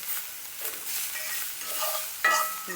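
Garlic frying in olive oil while being stirred, a soft continuous sizzle with scraping utensil strokes in the pan and a sharper clatter near the end.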